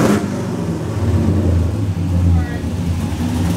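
A drift car engine runs and revs in an enclosed space, a rough rumbling idle that swells and falls with throttle blips, loud and close, with some background voices.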